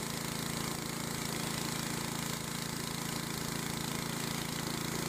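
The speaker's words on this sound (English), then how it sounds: "I take the engine down to idle again so the blade stops moving" Engine of a portable bandsaw mill idling after a cut, a loud, steady, dense mechanical drone with a constant low throb and no pauses, no voices.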